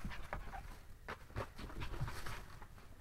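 A small dog pants quickly and softly close by on an indoor floor, with a few faint whimpers between breaths.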